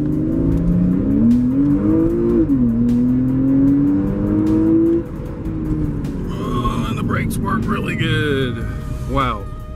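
A C4S sports car accelerates at full throttle on a straightaway, its engine note climbing loudly and steadily from inside the cabin before easing off, with voices reacting over the engine near the end.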